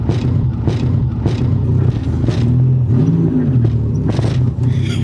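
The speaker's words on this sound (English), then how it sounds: "Does your diff sound like this?" Rear differential noise from a Nissan 300ZX Z31 with a worn diff mount, a steady low rumbling drone with clunking and a rising-and-falling whine, heard up close inside a moving car.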